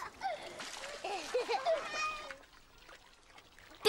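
Water is poured over a head in a children's TV show, with splashes and dribbling mixed among bright, high-pitched character voices chattering and squealing, then a quieter watery stretch.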